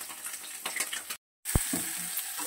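Eggs frying in a pan send up a steady close sizzle with a stirring clatter, briefly cut off and then resuming.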